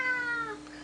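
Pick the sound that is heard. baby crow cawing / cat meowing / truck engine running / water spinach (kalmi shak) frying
cat meowing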